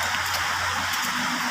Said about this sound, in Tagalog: Ulan gyapon mga idol, padayon gyapon ang ulan.